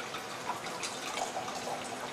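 Wine pours from a bottle into a glass at a table, a soft, steady liquid trickle with faint splashes, fairly quiet and without talk.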